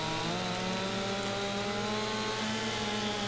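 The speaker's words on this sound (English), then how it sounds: "What a mighty chainsaw this is." A chainsaw in Farming Simulator 25 cuts a tree with a loud, steady, unbroken engine whine that holds the same pitch throughout, with no voices over it.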